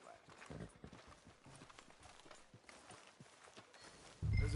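Horse hooves clip-clop on the ground in Red Dead Redemption 2, a steady walking beat running through the whole stretch at moderate loudness, ending in a louder low thump.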